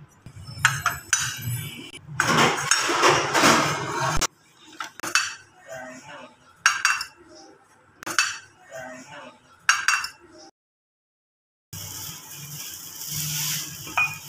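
Metal pots and dishes are being washed by hand, with close, bright clinks and clattering scrapes in irregular bursts, a brief silent pause, then steady running-water noise.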